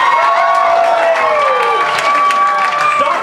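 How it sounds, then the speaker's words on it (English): A convention panel audience cheers and applauds loudly and continuously, a dense wall of clapping and whooping voices with no pause. "Stop cheering."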